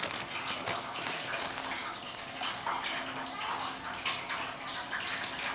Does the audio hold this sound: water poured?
yes